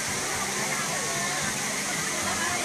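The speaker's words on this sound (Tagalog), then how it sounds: "Ayan, may falls sila." The waterfall at LOHAS Park in Hong Kong sends up a loud, steady rush of falling water, with voices talking over the constant roar.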